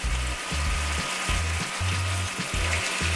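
Canned ackee poured into a hot pan, a steady sizzle and frying hiss with low bubbling pulses running throughout at moderate loudness, no voices.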